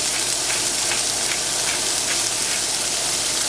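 Onions cooking for a beef stew with green chilies and pinto beans, a steady, close hiss of sizzling oil in a pan with faint soft scrapes of stirring, continuous and alone.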